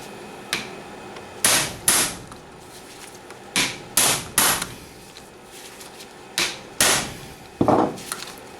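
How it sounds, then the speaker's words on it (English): Hammer blows whack stuck bolts to break them loose, about a dozen sharp metallic impacts close by, often in quick pairs separated by short pauses. "now I can whack them pretty hard"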